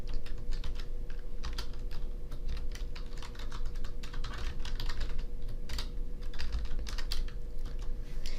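Rapid, steady keystrokes on a computer keyboard as code is typed for a motor-control lab, close and continuous for the whole stretch with no voices.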